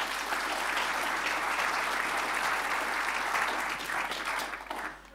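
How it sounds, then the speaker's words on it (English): An audience at a foresight forum breaks into applause, a dense, sustained round of clapping at moderate volume that holds steady for several seconds before tapering off near the end. "Round of applause, please."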